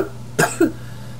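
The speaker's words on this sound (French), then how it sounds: "Excusez-moi, si je tousse beaucoup, c'est que j'ai la grippe." A person with the flu gives a short double cough, two close, abrupt bursts less than a second apart, up close and alone over a quiet background hum.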